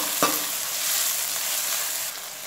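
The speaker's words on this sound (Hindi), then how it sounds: "शिमला मिर्ची, प्याज और हरी मिर्ची डालेंगे।" Capsicum, onion and green chili frying in a pan over a low gas flame give a brief, even hiss of sizzling, with one sharp stirring knock near the start.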